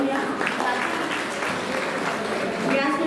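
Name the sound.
audience applause welcoming guest at award ceremony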